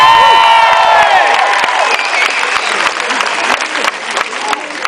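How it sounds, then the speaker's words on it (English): A loud, dense burst of applause and cheering from an outdoor political rally crowd for Barack Obama in Mansfield, Ohio, with whistles and whoops at the start, then steady clapping for several seconds. "please give a huge round of applause to Brenda for that great introduction"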